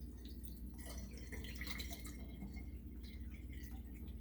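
Loquat leaf tea poured slowly through a fine filter, a thin steady trickle and drip of liquid, soft and close against a low background hum.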